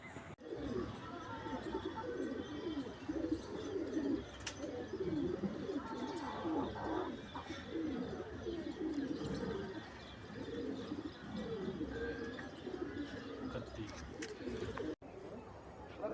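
Pigeons at a village pigeon club's flying tournament coo and call throughout, low soft rolling coos layered over a dense outdoor background with occasional sharper chirps and faint distant voices.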